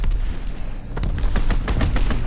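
Fighter aircraft strafing with gunfire in Call of Duty WWII: rapid bursts of automatic fire crackle over a low rumbling battlefield, growing denser and louder toward the end, with no talking.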